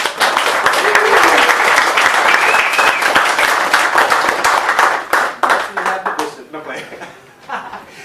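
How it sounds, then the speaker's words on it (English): Audience at a wellness month event applauding a speaker, loud dense clapping with a few cheers that thins into scattered separate claps and then dies away, with some voices underneath. "Please give Donnie a round of applause"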